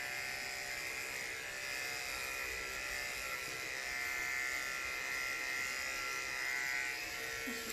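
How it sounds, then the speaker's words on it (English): Electric clippers trimming fur on an animal during a veterinary exam, giving a steady, close buzz that drones on without a break and with no talking. "I'm just going to go ahead and clip a little bit of fur while you stabilize that next leg"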